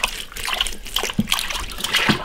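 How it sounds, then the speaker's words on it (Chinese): Pork ribs being washed by hand in water, with close, irregular splashing and sloshing bursts and trickling in a kitchen. "先把排骨洗一下"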